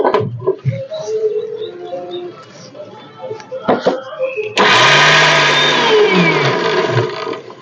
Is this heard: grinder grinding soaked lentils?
yes